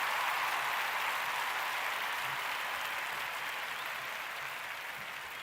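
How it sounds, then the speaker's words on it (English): Continuous dense applause, a broad hiss of many hands clapping that stays steady and slowly fades slightly, with no voices over it. "give yourselves a hand clap for that"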